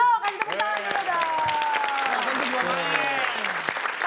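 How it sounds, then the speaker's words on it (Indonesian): Loud studio comedy audience applause and cheering, with voices talking and calling out over the clapping throughout. "kasih tepuk tangan dulu dong"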